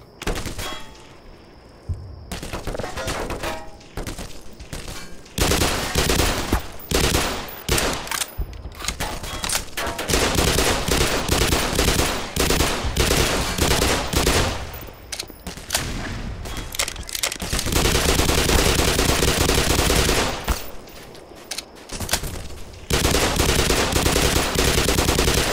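Rifle and automatic gunfire in the shooter game Black Mesa: long loud sustained bursts of rapid shots, close and harsh, broken by brief pauses and isolated single reports across the stretch.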